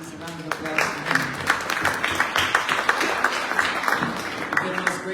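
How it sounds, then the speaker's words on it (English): Audience applause at a candidate meet-and-greet, a steady stretch of clapping from a modest room crowd with some voices mixed in underneath. "please, a round of applause for them"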